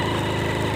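A motorcycle engine runs steadily as the bike climbs a mountain, a close, throbbing low drone with an even rhythmic pulse and no talk over it.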